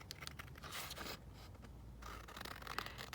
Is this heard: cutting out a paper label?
yes